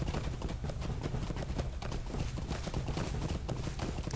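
Horse hooves gallop in The Lord of the Rings Online, a fast, steady clip-clop rhythm that stays loud and close throughout, with no talking.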